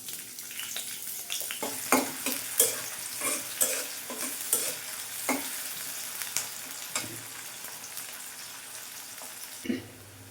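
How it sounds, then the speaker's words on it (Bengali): Chopped onion fries in soybean oil for a dried-fish and potato curry, a soft continuous sizzle broken by repeated scraping strokes of a spoon stirring the pan, close up with no talking. "আমি সয়াবিন তেল ঢেলে দিলাম, পেঁয়াজ কুচি দিয়ে দিলাম"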